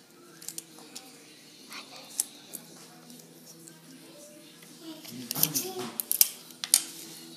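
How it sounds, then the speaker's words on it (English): Sticky tape crackles and rips as it is pulled and pressed to hold a paper corner in place, with scattered soft handling clicks early on and a louder, busier burst of tearing near the end, close and under quiet speech. "I am going to secure it with the tape, leaving this corner out"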